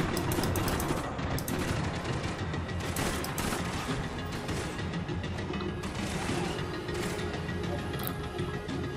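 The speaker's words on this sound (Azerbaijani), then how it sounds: "Kimsə haradasa güllə atır." Gunfire in the video game Max Payne 3, rapid clattering shots and mechanical impacts packed into a loud, continuous barrage.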